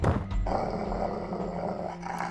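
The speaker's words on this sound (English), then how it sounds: "A large dog barks loudly and leaps on me." A large dog in the video game Code: Realize gives a loud, deep growling bark that runs on as a sustained snarl, close and forceful.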